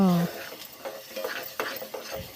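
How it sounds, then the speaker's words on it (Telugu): Fish frying in oil in a pan, heard as brisk spatula stirs and scrapes over a light sizzle, close and uneven, with a brief tonal hum at the very start. "బాగా వేయించుకోవాలండి"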